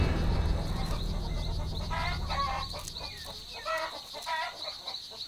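Small chickens cluck in the Peruvian Amazon, a run of short clucks and chirps of moderate loudness over steady low background noise, with no one talking.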